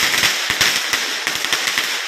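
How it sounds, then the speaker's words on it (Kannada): Diwali firecrackers burst in rapid, irregular pops and cracks, a dense run of sharp bangs over a steady crackling hiss, loud and fairly close, with no voices. "ಎಷ್ಟು ಚೆನ್ನಾಗಿ ಅನಿಸುತ್ತಲ್ವ ಈ ಥರ ಪಟಾಕಿ ಶಬ್ದ"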